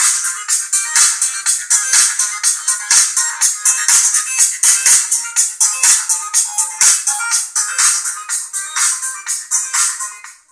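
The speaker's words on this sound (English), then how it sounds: "I'm going to test the speaker to see how much better is than normal phones" Music plays through the small loudspeaker of a Moto G phone, a thin, bright, rhythmic track pulsing steadily for the whole stretch, with little low end and no talking.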